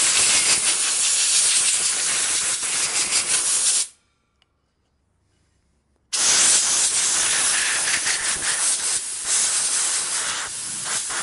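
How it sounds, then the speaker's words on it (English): Compressed air from a hose blasts loudly across a Harley-Davidson Panhead clutch, two long continuous hissing bursts separated by a short pause of near silence. "I'm going to get my air hose and blow this thing off"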